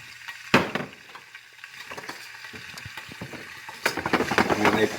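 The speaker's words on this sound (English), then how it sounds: "And they pop like popcorn." Wood ear mushrooms popping in a hot pan give sharp scattered cracks and sizzling pops, a loud burst early then a dense crackling flurry near the end, with quiet background noise between.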